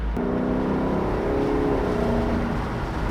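A Lexus LC 500 with its 5-liter engine and exhaust in normal mode gives a steady, smooth droning hum with a tonal growl. It stays at an even level until a brief louder burst at the very end.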